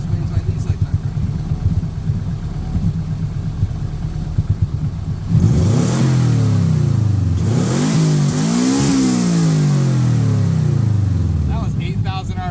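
A Toyota Corolla with a swapped JDM six-speed is revved hard to 8,000 RPM. A loud, near engine idles roughly, then climbs in rising and falling sweeps, and talk comes at the very end.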